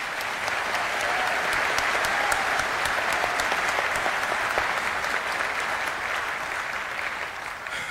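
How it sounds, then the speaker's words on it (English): A large audience at a resiliency summit in Trenton, New Jersey applauds loudly and steadily in a hall, a dense, even wash of clapping that holds for several seconds before easing slightly. "Let's give this group a big round of applause."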